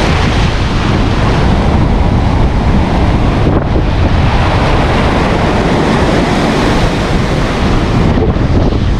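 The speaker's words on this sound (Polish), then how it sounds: "Nie wiem, jak dobrze mnie słychać, bo bardzo wieje." Strong wind at the sea buffets the microphone in a constant heavy roar, with a surf-like rumble throughout and no voices.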